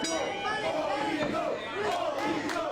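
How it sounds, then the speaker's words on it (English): At a Canadian independent pro wrestling event, a crowd shouts and chants loudly in rising, overlapping bursts of voices that swell and dip over a few seconds. "The crowd having their voices heard throughout this event here tonight."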